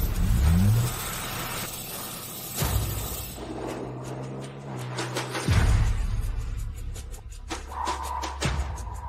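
A car engine revs and accelerates in several swelling surges, loud and close, with abrupt shifts and bursts between the pulls.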